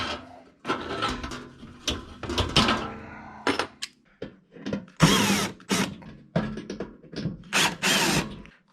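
Knockout being notched out of an electrical panel with hand and power tools: irregular bursts of ratcheting, grinding and metallic clicks, close and choppy, with short pauses and no talk.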